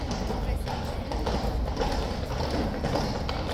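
Horse hooves clip-clop on pavement as King's Guard horses are led out into morning light, a steady rhythmic tapping over heavy low rumble and crowd noise.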